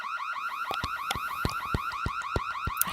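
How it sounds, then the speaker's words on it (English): A shrill in-game alarm from Nancy Drew: Danger by Design wails in a rapid repeating warble, each cycle marked by sharp pulses, loud and steady for the whole stretch with no voices. "I hate that alarm sound."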